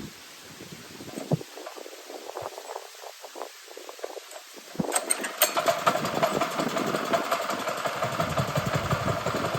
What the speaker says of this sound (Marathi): ट्रॅक्टर चालू झालाय